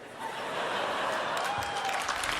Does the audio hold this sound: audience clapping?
yes